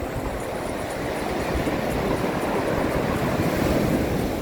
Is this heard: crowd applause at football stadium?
no